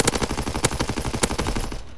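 Rapid gunfire in a World War II video game, a fast, steady burst of loud close shots lasting almost two seconds before cutting off.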